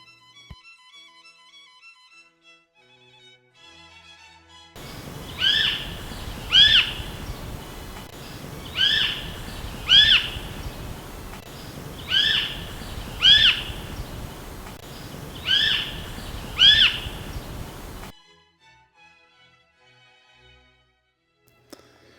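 A New Zealand hawk calling in a backyard garden: a series of sharp, high, repeated calls, often in pairs, coming back every few seconds at moderate loudness over a faint outdoor hush, with no talk.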